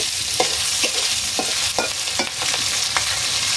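Food fries in hot oil with a dense, continuous sizzle, broken by a string of quick scraping stirs from a spoon or spatula, close and loud with no talking.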